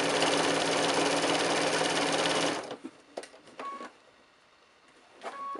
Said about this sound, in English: I'm just going to sew this 1 seam